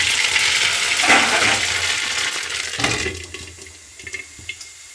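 Mustard seeds hit hot oil with a burst of loud hissing sizzle that gradually dies down into scattered faint crackles and pops.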